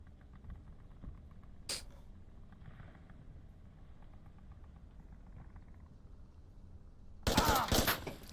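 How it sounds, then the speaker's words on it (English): Gunfire in the Onward VR shooter: a sharp distant shot early on, then a loud burst of rapid shots near the end over quiet background noise. "They're reacting to gunshots, which is good."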